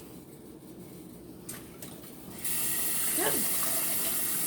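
A kitchen tap turns on partway through and runs steadily, a close, hissing gush of water over halved, cored peppers, with a brief voice just before it starts.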